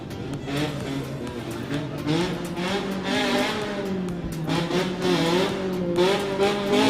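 A Mini 1275 race car at the 2021 Eliyakanda hill climb, its engine droning loud and close for the whole stretch with rising and falling revs and a rasping exhaust note.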